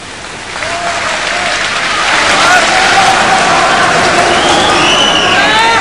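Audience applauding at a debate with Sheikh Ahmed Deedat, loud sustained clapping and cheering that swells and stays dense throughout, with a few voices calling out.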